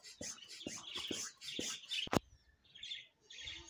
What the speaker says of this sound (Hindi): हमारे परिंदे भी देख रहे हैं